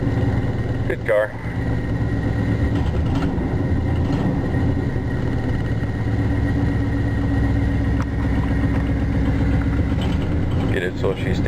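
A car engine idles steadily and loudly just after being started, a continuous low rumble with a few brief clanks and someone talking over it.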